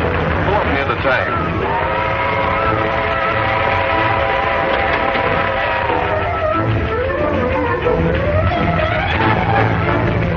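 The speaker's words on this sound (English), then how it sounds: "They're going to board that train." Steam train horn or whistle in a film scene, sustained harmonic tones that rise and bend over continuous rumbling noise, loud and close, with a locomotive taking on water at a tank.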